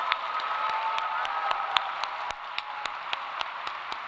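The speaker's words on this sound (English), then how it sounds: "Please join me in a round of applause for the faculty." Applause for faculty at a university convocation ceremony: scattered, distinct claps at a fairly regular pace over a steady room hum, thin and somewhat distant rather than a full crowd roar.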